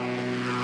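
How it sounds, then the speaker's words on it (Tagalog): An ultralight aircraft engine drones steadily and loudly, a continuous buzzing tone with no pauses or talking. "Malalamigan ka rin daw, pati sa pagsakay ng ultralight."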